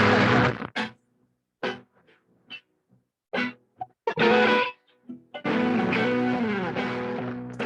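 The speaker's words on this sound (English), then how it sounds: "That's some distortion." Bursts of heavily distorted, saturated guitar tone from an Eventide H9 effects pedal in short stabs with pauses, ending in a longer sustained fuzzy chord.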